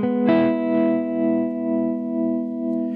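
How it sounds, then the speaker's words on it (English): An electric guitar on its neck pickup, with light tremolo and reverb, plays a chord lesson: one strummed chord rings out rich and sustained, its level gently pulsing, alone with no speech. "There's a light tremolo on and some reverb."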